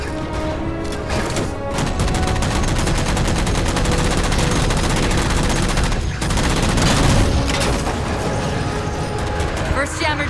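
Sustained gunfire in Halo 4 aimed at jammers, dense rapid automatic shots and booms forming a loud continuous barrage with voices now and then over the top.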